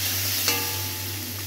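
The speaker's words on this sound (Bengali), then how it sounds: "এই যে লঙ্কা আর পেঁয়াজটা ভেজে রেখে দিচ্ছিলাম, লঙ্কাটাকে নেড়ে দিতে হবে" Chilli and onion frying in a pan while being stirred, a steady close sizzle with one brief scrape of the spoon near the middle.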